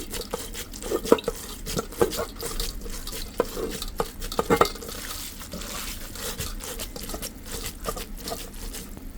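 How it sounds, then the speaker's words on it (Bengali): Boiled naengmyeon noodles rinsed by hand in cold water, with running tap water, sloshing and irregular splashing patter close up, no talking. "একেবারে ঠান্ডা পানিতে ধোবেন অনেক অনেক ঠান্ডা পানিতে"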